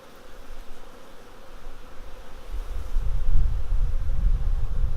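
Honey bees swarm and buzz around an open queenless hive, a dense, continuous drone that starts fairly soft and grows louder and closer partway through, with no voices.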